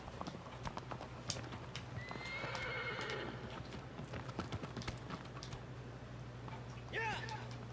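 A horse in the video game Shadow of the Colossus gallops with steady, rapid hoofbeats and gives a short whinny near the end, mixed with keyboard clicks and faint talk.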